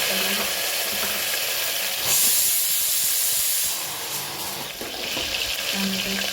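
Cumin seeds and tomatoes hitting hot oil already crackling with mustard seeds, giving a steady close sizzle and hiss that surges briefly as the tomatoes go in, with no talking.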